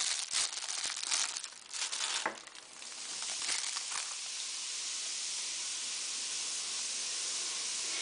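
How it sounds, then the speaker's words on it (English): A strawberry-scented bath bomb fizzes in water with a steady close hiss, louder and crackling over the first few seconds, then settling into an even soft effervescence. "It'll fizz like that, like an Alka-Seltzer."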